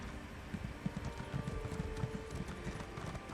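Horse hooves clip-clopping at a steady walking rhythm in Elder Scrolls Online, the mount a snow breath horse earned from event tickets, moderately close over a soft game ambience.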